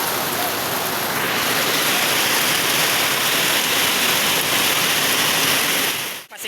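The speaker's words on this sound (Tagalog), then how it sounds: "So kay ulan dere." Heavy rain falling, a loud, steady, dense hiss that fills the whole stretch without pause before cutting off abruptly at the end.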